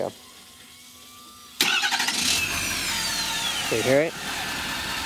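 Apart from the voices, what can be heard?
2015 Ford F-350 6.7L diesel engine starting and idling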